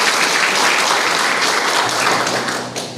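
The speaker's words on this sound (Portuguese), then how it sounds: "Aplaude e glorifica o Deus vivo." A church congregation applauds during a worship service, a loud, steady wash of clapping that carries evenly through the whole stretch.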